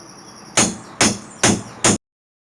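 Pallet boards being pried and knocked apart with a crowbar to salvage wood for a chicken coop: four sharp, loud wooden bangs spaced about half a second apart, then silence.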